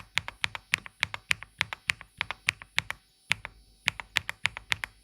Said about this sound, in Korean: 직접 타건음을 비교를 해보니까 이 높이가 더 높은 독거미의 이 키캡이 안 그래도 낮고 정돈되어 있는 스위치의 소리를 한 번 더 감싸주면서 완전히 좀 도각도각한 그 느낌을 완성해주고